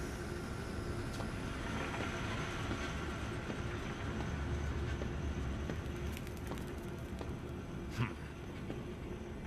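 A train rumbling steadily along its rails in the horror zoo video game Zoochosis, a continuous low, dense rolling noise that runs the whole time with no voices over it.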